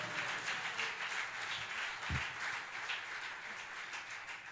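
Church congregation applauding, a steady, fairly faint spread of clapping from many people that continues evenly throughout, with one low thump partway through.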